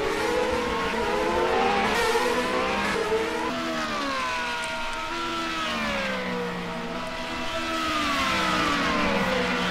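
Formula Renault 3.5 single-seaters racing at Sepang in a 2015 Gentlemen Racers test race, high engines rising and falling in pitch as cars pass one after another, loud and continuous throughout.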